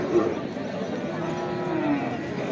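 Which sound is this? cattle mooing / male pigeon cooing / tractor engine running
cattle mooing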